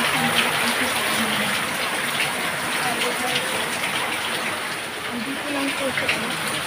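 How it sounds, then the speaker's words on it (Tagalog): Floodwater flows in a continuous, dense rush of water with no break, steady and fairly loud throughout. "Kasi yan ang baha sa amin guys."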